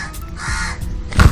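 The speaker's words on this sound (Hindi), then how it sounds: "भाई ये कौवा है क्या चीज़ है, मुंह पे आके चिल्ला रहा है" A crow caws repeatedly nearby, harsh raspy calls in quick succession, with a dull thump near the end and no speech.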